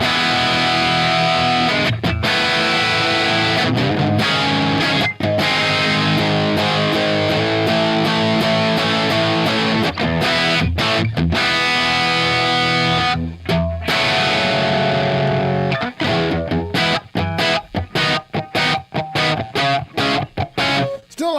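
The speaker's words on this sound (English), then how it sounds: "that distortion works for me" A Telecaster guitar plays through a PROTO2 distortion pedal, thick chunky overdriven chords ringing loud and sustained, broken by short stops and choppy rhythmic gaps toward the end, with no talking.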